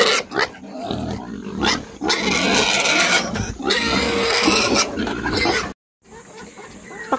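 Pigs, including a sow, on a rural Philippine farm grunt and squeal in noisy, overlapping bursts at close range, with chickens clucking in the background, then a brief cutoff before quieter farm sounds resume.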